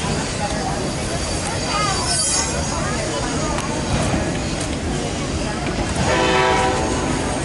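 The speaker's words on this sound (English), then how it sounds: "Yep, that's our train." A loaded CSX autorack freight train rolls past with a continuous rumble and rattle of cars, steel wheels squealing and a horn sounding, loud and close, while people talk over it.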